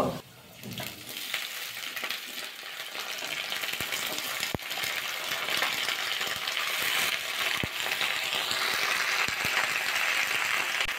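Potatoes frying in a pan with Malabar spinach being added, giving a steady broad sizzle with a few sharp clinks and scrapes as the greens go in and get stirred.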